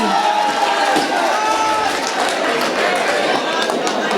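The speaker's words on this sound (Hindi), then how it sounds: "एक बार जोरदार ताली" A crowd at an all-India mushaira in Siwalkhas, Meerut, applauds in a dense, continuous wall of clapping, with a voice heard through it.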